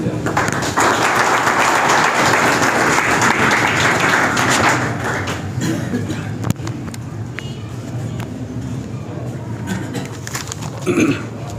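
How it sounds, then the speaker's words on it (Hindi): An audience at a school and college opening ceremony in Oghi claps loudly for a speaker for about five seconds, then the applause fades into room noise and scattered sounds. "आपकी भरपूर तालियों की गूंज में"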